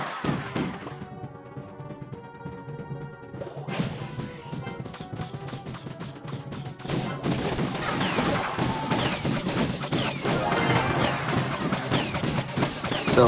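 Towers being destroyed in a tower-battle video game: repeated crashing smashes and burst-like impacts layered over game music, growing denser and louder toward the end.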